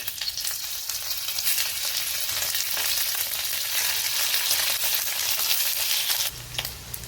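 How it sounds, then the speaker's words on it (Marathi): Paneer frying in hot oil, a loud close sizzle that holds steady for several seconds before suddenly dropping off, with a few light scrapes of stirring near the end. "आता आधी आपण पनीरला फ्राय करून घेऊ।"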